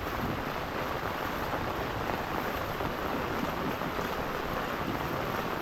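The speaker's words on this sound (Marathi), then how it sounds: "दोन ते तीन दिवस सतत न थांबता पाऊस पडतोय न थांबता" Heavy monsoon rain in the Konkan region, falling nonstop for days and flooding the village, pours down steadily, a dense unbroken hiss with no pauses, moderately loud throughout.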